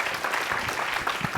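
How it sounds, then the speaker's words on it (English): A warm round of applause from the audience at a Learning Matters conference, dense steady clapping from many people filling the space, with no talking over it. "Let's give them a warm round of applause."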